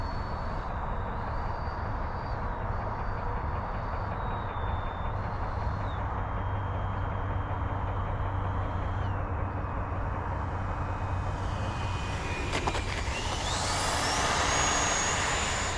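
An FMS F-86 Sabre 80mm EDF radio-control jet lands, its ducted-fan whine rising and falling steadily with throttle changes before swelling to a brighter, louder rush near the end of the approach.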